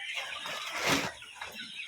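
Local and Sonali chickens on a farm cluck and murmur close by in a short burst of busy, overlapping calls, with no talking.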